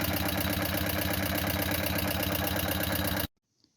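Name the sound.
Buell M2 motorcycle engine idling while warming up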